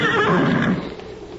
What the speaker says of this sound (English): Get off that horse.